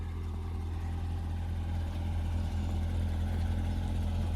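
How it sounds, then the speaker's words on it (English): A C7 Corvette Z06 engine idles steadily after a cold start with a low, humming drone, fairly quiet and even throughout, with no talking. "So let's get you guys a cold start."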